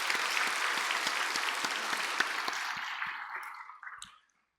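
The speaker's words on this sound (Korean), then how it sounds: "우리 교회학교 학생들에서 박수 한번 하겠습니다" Congregation in a church sanctuary applauding church school students during a Sunday service, steady full clapping that fades out over about four seconds, with a few single claps at the end.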